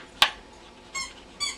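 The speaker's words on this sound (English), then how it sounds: "That's Spencer saying hello from his squeaky toy." Dog's squeaky toy squeaking three times, one sharp short squeak then two softer, longer squeaks, close and alone in a quiet room.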